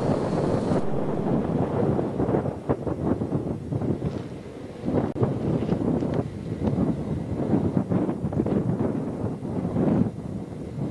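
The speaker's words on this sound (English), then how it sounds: "as you can probably tell, the wind is really blowing" Strong wind gusting outside a horse barn on a ranch, buffeting the microphone with a loud, continuous roar that rises and falls, with no voices.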